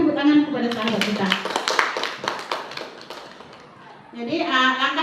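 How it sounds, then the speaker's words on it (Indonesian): A small indoor group claps in a brief burst of applause during a school training session, the sharp claps sitting between stretches of voices and chatter before and after. "Berikan tepuk tangan kepada sahabat kita."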